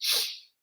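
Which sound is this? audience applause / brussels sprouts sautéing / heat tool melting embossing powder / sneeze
sneeze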